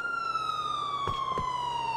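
A police car siren in Grand Theft Auto IV wails with one steady, slowly falling tone at moderate distance, and a couple of brief thumps cut in partway through.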